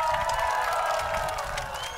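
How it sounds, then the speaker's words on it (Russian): A hall audience at a business presentation breaks into sustained applause, a dense wash of clapping that carries steadily for two seconds and begins fading at the end. "Ваши аплодисменты!"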